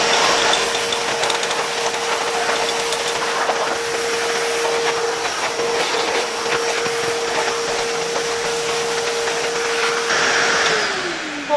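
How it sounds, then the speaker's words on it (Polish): A vacuum cleaner run in reverse as a blower roars steadily while blowing out a 1978 Termika OP101 radiator casing, loud and close with a constant whine that drops in pitch near the end as the motor winds down. "teraz mam odkurzacz działający jako dmuchawa i spróbuję jeszcze troszkę przedmuchać te elementy"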